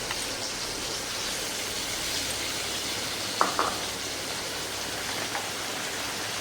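Prawns frying in hot oil with onion, ginger, garlic and green chilli paste, giving a soft, even sizzle throughout with a couple of brief louder pops in the middle.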